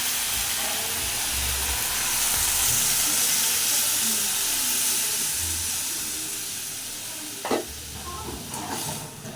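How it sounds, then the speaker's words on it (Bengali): Drumsticks, potatoes, tomatoes and spices sizzle and hiss steadily in a hot pan, with a sharp burst of spitting steam near the end as water is poured in, then the frying settles to a softer bubble. "এরপর আমি জল দিয়ে দেবো।"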